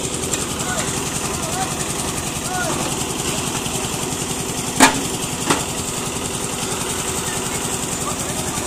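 A concrete mixer machine runs steadily at a house construction site during a second slab casting, its engine a dense pulsing drone with two brief clanks, while people talk nearby.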